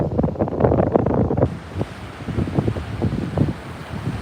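Strong wind buffets the microphone at a Virginia Beach shoreline, gusting in loud uneven bursts over a low rumble of surf.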